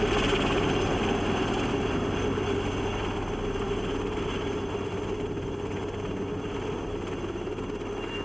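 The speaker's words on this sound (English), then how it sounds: "the army chopper landed at the base camp to collect the garbage" An army helicopter lands at a mountain base camp, its engine and rotors droning in a constant, fairly loud wash that fills the whole stretch without a break.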